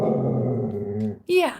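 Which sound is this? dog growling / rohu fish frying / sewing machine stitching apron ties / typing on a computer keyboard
dog growling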